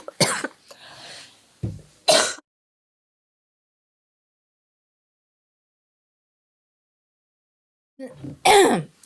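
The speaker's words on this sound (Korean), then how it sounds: "기침은 멈출 수가 없네요" A few harsh coughs come in quick bursts near the start, followed by a long silence, then another pair of forceful coughs close to the microphone.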